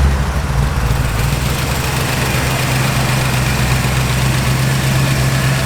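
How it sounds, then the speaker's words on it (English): A 1964 Chevrolet Impala with a mildly upgraded cam idles steadily nearby, a deep, even rumble with a low throb holding constant throughout, no voices present. "Car just runs and drives, sweet as can be."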